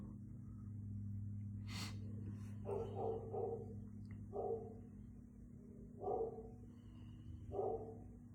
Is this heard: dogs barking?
yes